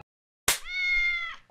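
A single drawn-out meow from a pet cat wanting to be let outside, close and clear after a moment of silence, tonal and sustained before trailing off.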